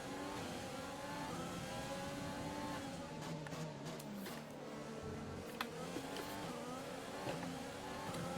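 Formula 1 race cars in the F1 2020 video game at the Azerbaijan circuit, a steady mid-pitched engine drone holding throughout with shifting revs as cars run close together, loud and continuous with no talk.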